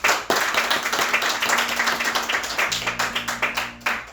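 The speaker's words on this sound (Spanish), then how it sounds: "Dale un fuerte aplauso al Señor si lo crees." Church congregation clapping loudly and rhythmically in unison, close and sustained, with a steady musical tone and low accompaniment underneath.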